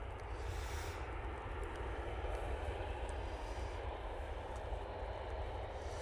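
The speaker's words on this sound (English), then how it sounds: "Nice to have the Finnair 321 in today." A Finnair Airbus A321 jet at an airport gives off a steady, distant engine roar with a broad rumble that holds evenly for several seconds, and no voices are heard.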